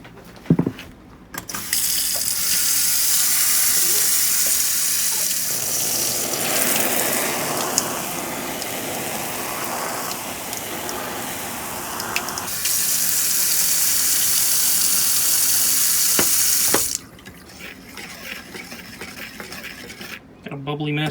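Water pours from a kitchen tap into a homemade engine degreaser mixture in a sink, a steady broadband rush for about fifteen seconds, with faint clinks and stirring before and after.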